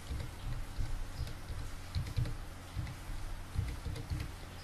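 Keys clatter on a computer keyboard as a command is entered, irregular bursts of taps spread throughout at moderate loudness.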